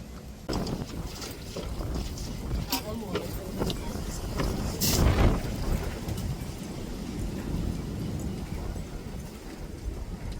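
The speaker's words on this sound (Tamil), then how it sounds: "காற்று அடிக்கிது சரியான காற்று" Gusty outdoor wind roars and buffets during outdoor fish curry cooking, with a rumbling surge in the middle of the stretch and voices talking over it.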